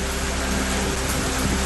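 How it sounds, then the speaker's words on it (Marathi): Heavy rain lashes down in stormy wind in Vasai-Virar, a dense, steady broadband roar of pouring water with no gaps, loud and close throughout the short stretch. "वादळी वाऱ्यासह जोरदार पाऊस।"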